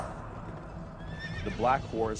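Horse neighing as a sound effect, rising to a loud whinny with quavering pitch and a second shorter whinny right after, over a faint background of hoof clopping.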